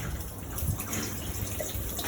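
Water runs steadily through an aeroponic growing system onto plant roots, giving a continuous, soft hiss and trickle with no pauses over a low mechanical hum.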